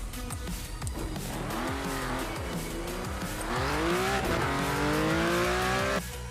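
A race car in the Project Cars 2 video game drives with a loud, steady engine whose pitch rises and falls through gear changes, with tire squeal mixed in. No one speaks.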